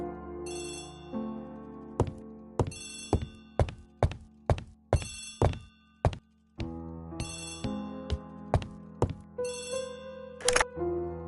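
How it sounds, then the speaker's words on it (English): A telephone rings in a series of sharp, repeated bell bursts in a quiet interior, set against sustained tonal background music. "Poirot, the telephone."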